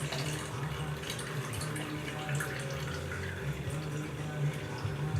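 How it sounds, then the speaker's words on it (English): Water poured out of a container, a steady, moderately loud splashing gush that runs unbroken from start to finish with no one talking over it. "So I'm going to get rid of the water."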